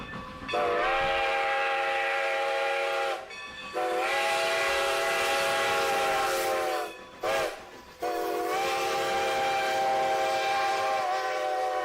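A loud train whistle blows in long sustained blasts, broken by short gaps and one brief toot, over the rumble of a train.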